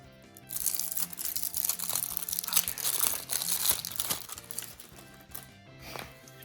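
Paper wrapping is torn and crumpled off several packs of card decks: dense, close crinkling and ripping that runs almost continuously for several seconds before easing off at the end.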